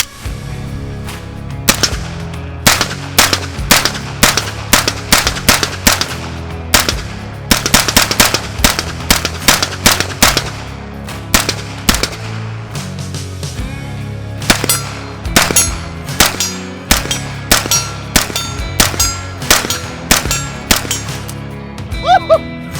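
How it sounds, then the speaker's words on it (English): A Heckler & Koch SP5 pistol fired at a range, a long sequence of sharp, loud, close gunshots in quick single shots and rapid bursts with short pauses between strings. "I'm about to shoot an SP5 for the first time in my life"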